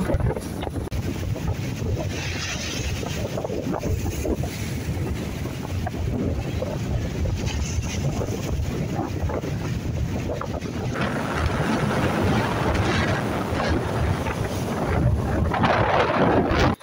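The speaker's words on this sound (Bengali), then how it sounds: "আজকে সকাল থেকে দেখি অনেক বেশি বাতাস আর বাতাসের কারণে মেঘনার ঢেউ বেড়ে গেছে" Strong, steady wind buffets the microphone over a broad rushing wash of water as wind-driven waves churn on the Meghna River, continuous with no talking.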